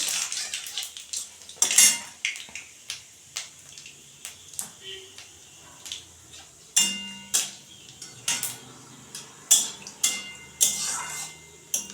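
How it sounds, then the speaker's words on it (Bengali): Panch phoron spices hit hot oil for tempering and give sharp, separate ticks and pops at a steady, scattered pace, with a few metallic clinks from the pan. "তো বন্ধুরা আমি পাঁচ ফোড়ন দিয়ে দিচ্ছি ফোড়নে"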